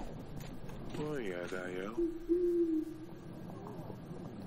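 Pigeon returning in the video game Yes Your Grace, a soft cooing hoot with a short warbling call followed by a sustained low coo, over quiet ambience.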